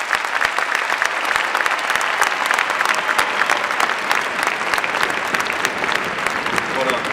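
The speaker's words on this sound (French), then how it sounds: "si vous pouvez les applaudir" Festival du Cirque audience applauding a circus act at length, a dense continuous roar of clapping from a large crowd, with some voices mixed in beneath it.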